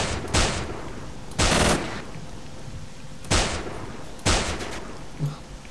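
Gunfire from a weapon in a modded S.T.A.L.K.E.R.-style shooter running the New Arsenal 5.1 mod: four or five loud, sharp shots at irregular intervals, each a broadband crack with a short rumbling tail over steady background ambience.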